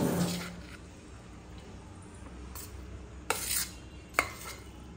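Paneer biryani mixture stirred in a pot with a spoon: a quiet, mostly still scene broken by a few sharp scrape-and-clink strokes against the pot's side near the end.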